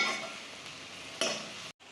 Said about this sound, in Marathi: आता इथं कांदा भाजत आहे